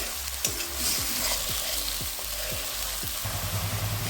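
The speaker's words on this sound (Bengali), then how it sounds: "দুটো বড় সাইজের পেঁয়াজকে আমি বেটে নিয়েছিলাম সেটা দিয়ে দিলাম" Ground onion paste frying in a pan, a steady sizzle overlaid by a regular series of stirring scrapes roughly every half second, close and moderately loud, with no talking.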